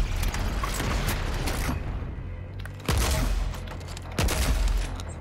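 Heavy weapon fire in the shooter Doom Eternal on Nightmare difficulty, a dense rattling barrage punctuated by three loud booming impacts, alone without speech.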